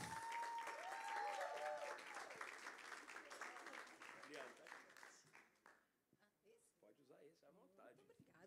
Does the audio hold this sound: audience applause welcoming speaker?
yes